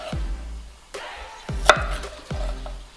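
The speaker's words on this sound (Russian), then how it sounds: "Чеснок на две части." Knife chopping through a garlic clove on a board, giving several sharp, close thuds in an uneven rhythm with one brighter crack partway through, no talking.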